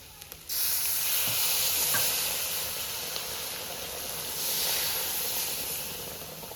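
Hot pan of fried chicken keema with Kashmiri chilli powder hisses loudly as a little water is poured in, a sudden burst of steamy sizzle that holds steady and then swells again, alone without talk.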